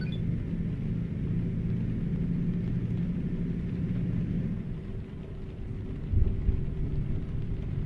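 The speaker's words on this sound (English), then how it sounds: "You guys hear that? The thunder and the lightning?" Low rolling thunder rumbles in a Euro Truck Simulator 2 storm, a steady deep drone with rain-like hiss, heard from inside a truck cab, swelling briefly near the end.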